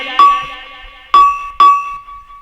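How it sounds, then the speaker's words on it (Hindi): A bell rings three times, clear and close, each ringing stroke followed by a long decaying tone, the last two strikes closer together than the first pair. "घड़ियाल ने घंटी बजाई"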